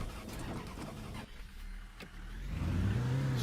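A bus engine in Fernbus Simulator hums at a quiet idle, briefly thins out, then swells again with a rising mid-pitched drone toward the end.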